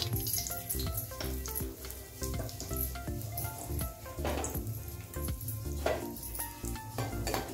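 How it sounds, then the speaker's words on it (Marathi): Asafoetida frying in a large spoonful of hot ghee, a loud, continuous crackling sizzle with busy popping throughout, close up and with no voices. "हिंग चांगला तळून द्यायचा आपल्याला"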